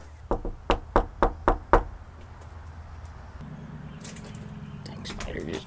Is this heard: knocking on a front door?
yes